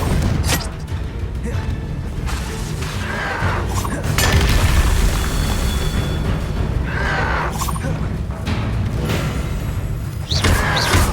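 The Confringo fire spell exploding in the Hogwarts Legacy video game, heard as loud, booming blasts and crashing impacts in a dense, continuous battle din.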